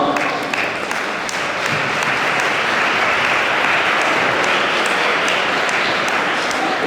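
Loud, sustained applause from a gala audience at a recognition evening in Lanoraie, a dense continuous wash of many hands clapping without a break.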